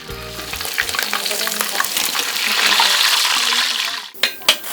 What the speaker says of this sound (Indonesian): Kemudian, goreng entog dalam minyak panas sampai kuning kecoklatan.